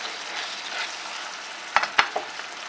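Stewed ground beef with peppers, tomato and onion reheating in a pan gives a soft, even sizzle, broken near the end by a few sharp utensil clicks; no voices.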